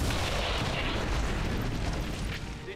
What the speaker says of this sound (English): So take that pistol shot.